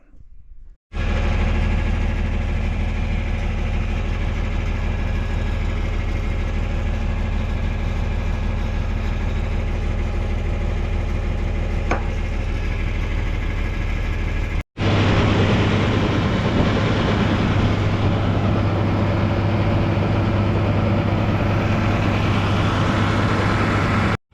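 A heavy engine runs steadily at close range with a constant low drone, cutting out briefly partway through before resuming louder and rougher.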